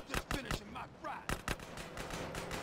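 Gunfire in GTA San Andreas during a drive-by chase, several sharp close shots in quick pairs and bursts, loud against a low background rumble.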